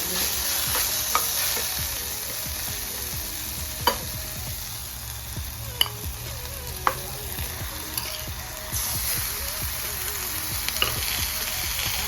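Minced mutton keema fries in a pan with ginger garlic paste, giving a loud, dense, continuous sizzle close by, with occasional sharp clicks of a spoon against the pan as it is stirred.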